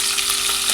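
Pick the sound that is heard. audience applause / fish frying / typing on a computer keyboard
fish frying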